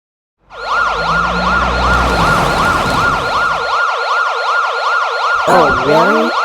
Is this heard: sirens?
yes